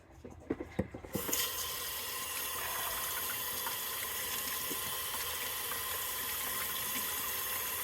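A few light knocks and handling taps, then a sudden steady stream of running water pours over a fluorite stone being wetted for cutting, a continuous loud close hiss and splash to the end.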